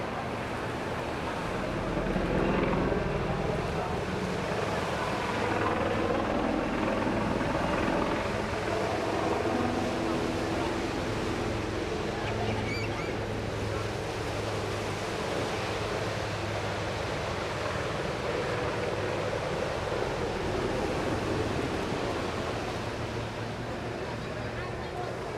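Powerful aircraft engine roar from a flying display at the English Riviera Airshow, a broad sustained rumbling drone with wind-like rushing over nine-tenths of the stretch, steady and fairly loud throughout.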